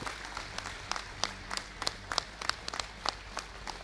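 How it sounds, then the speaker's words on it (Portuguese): A modest crowd at a jiu-jitsu seminar applauds, individual sharp claps standing out over a soft, continuous patter of hands. "Uma salva de palmas."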